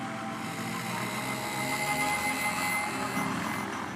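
A small airplane patched with duct tape flies past, its engine a steady droning hum with tonal whine held at a moderate distance and constant level for several seconds.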